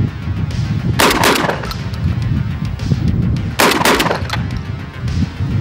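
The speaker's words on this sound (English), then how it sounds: "Should we see if it'll bump fire?" A 12 gauge shotgun with a 20-round drum magazine, bump fired outdoors: two loud bursts of rapid, booming shots about two and a half seconds apart, over continuous background noise.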